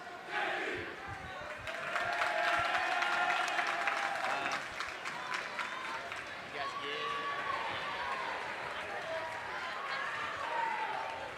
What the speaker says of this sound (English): give a big round of applause for the Bville Lady Tigers